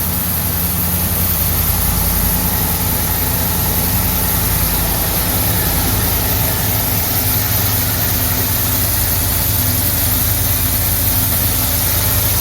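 Ford F-150 5.0 V8 idles loud and steady right after a throttle body and cold air intake install, an unbroken low rumble recorded close to the engine with no talking.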